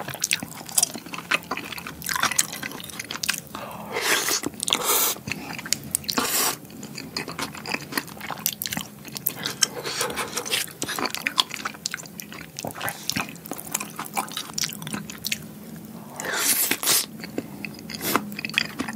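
Close-miked eating of spicy octopus kimchi porridge with extra cheese and braised beef, wet slurping, chewing and occasional crunchy bites in an irregular rhythm throughout, with little or no talk.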